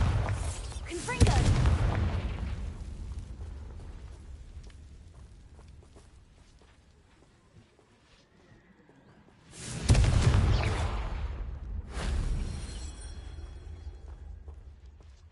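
Two heavy booms from Bombarda and Confringo spells in a video game, each a loud low blast with a long fading rumble, spaced several seconds apart.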